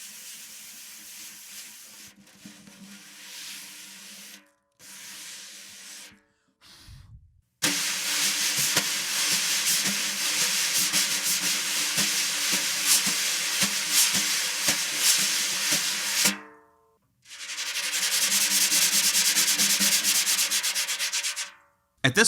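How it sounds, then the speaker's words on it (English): Abrasive sanding scrapes across a snare drum head in long steady passes, close and loud, with a few brief pauses and a short break near the end. "another round of sanding, and then we're going to hear how that sounds"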